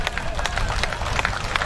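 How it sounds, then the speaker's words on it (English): Audience clapping at an outdoor anti-crime youth road walk and empowerment event, dense and steady under crowd babble and nearby voices. "If you are clapping, you clap very well."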